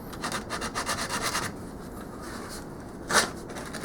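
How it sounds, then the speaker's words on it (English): Sandpaper rubbing the sharp inner edges of a drilled hole in a half nut for a lathe headstock, a steady run of rapid, close scratchy strokes followed by a pause and one brief louder scrape. "So I'm just going to soften them a bit with some sandpaper."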